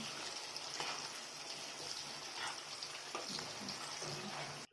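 Ginger paste frying in a pan for a ginger pickle, a steady close hiss of sizzling that runs the whole time, with occasional faint stirring scrapes and no voices.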